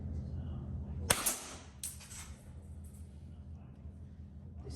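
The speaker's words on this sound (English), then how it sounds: "I'm just loading up a shot and I'm going to aim for the right hand side target, maybe see if I can put a few pellets into it" Alias Gem Ruby CO2 pistol firing a single pellet at a garden target: one sharp, close crack followed by a brief metallic ring, then quiet outdoor background.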